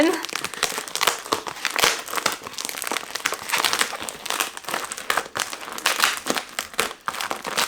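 A metallized envelope from a book publisher is crinkled and torn open close by, giving dense rustling and crackling throughout, with a voice talking over the handling.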